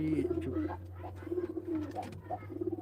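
Domestic pigeons coo softly and repeatedly in a loft, with a steady low hum underneath and faint voices in the background.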